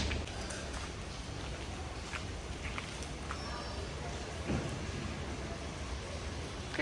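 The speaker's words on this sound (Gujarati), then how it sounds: "કેટલો બધો વરસાદ આવે છે." Heavy rain pours down steadily outdoors, a dense continuous hiss with scattered louder drips and splashes, fairly close and unbroken throughout.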